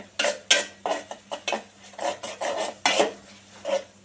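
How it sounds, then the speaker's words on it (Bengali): Onions for an egg curry with moong dal are stirred in a pan with a metal utensil, giving a series of irregular scraping and clinking strokes, close and moderately loud, with no talking. "দেখতে পাচ্ছি আমি ভালো মতন কষিয়ে নিচ্ছি"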